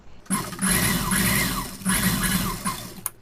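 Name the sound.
sewing machine stitching a blouse lining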